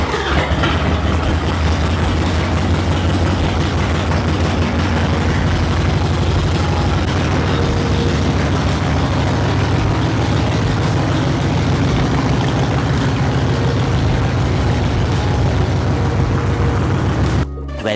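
A Harley-Davidson Sportster Evo engine idles while warming up before an oil and filter change, a loud, steady low rumble that runs unbroken for the whole stretch and cuts off abruptly at the very end.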